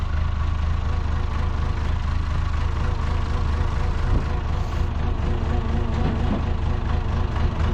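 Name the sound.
International Acco 1830B truck engine running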